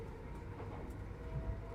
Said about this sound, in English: The wheels find their regular rhythm again. The hollow sound becomes solid.